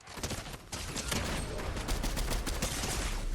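Rapid gunfire from the Fortnite video game crackles in a dense, continuous burst, loud and close, with a short break before the shooting picks back up.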